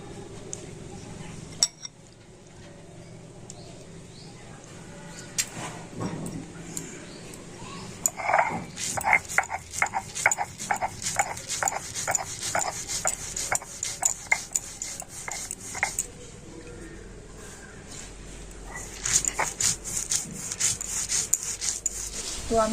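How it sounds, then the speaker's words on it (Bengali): Soaked rice being ground on a shil nora, a flat stone slab worked with a stone pestle, giving steady rhythmic scraping and rubbing strokes with occasional clinks, close up and moderately loud, with no talk. "তো আমি চালগুলো শিলনোড়াতে বেটে নিচ্ছি।"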